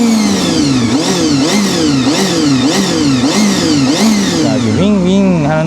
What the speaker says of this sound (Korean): 가변 플랩을 닫은 상태로 엔진음을 조금 더